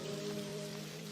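Rain falls in a soft, even patter on a surface, a quiet continuous wash of drops with no speech.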